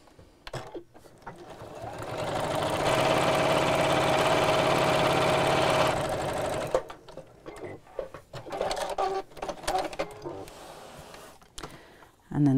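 A sewing machine stitches fabric for a round bamboo-handled bag in one steady, even run of about three seconds, followed by quieter handling noises and brief clicks.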